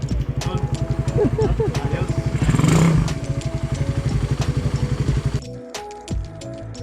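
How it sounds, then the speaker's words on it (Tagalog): A 180cc Suzuki Raider motorcycle engine idles close by with a steady, rapid putter, briefly revs up, then settles back and cuts out near the end, with voices nearby. "At na-test na nga ni Kuya yung kanyang motor."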